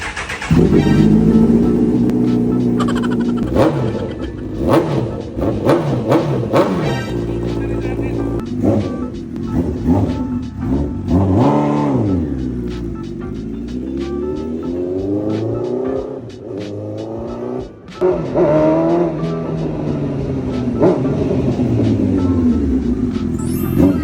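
A loud 2019 Honda CB1000R motorcycle engine revs repeatedly, pitch sweeping up and down in surges over a steady rumbling idle, close by.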